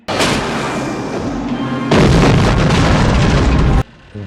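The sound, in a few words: bomb dropped and exploding in James Bond film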